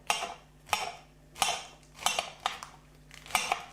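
A knife slicing leftover Caesar salad leaves on a cutting board, giving a series of sharp, close chopping taps at an irregular rhythm, with no voices.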